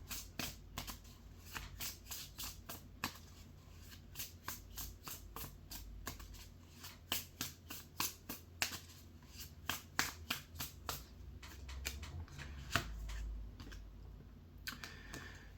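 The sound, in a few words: playing cards being shuffled and drawn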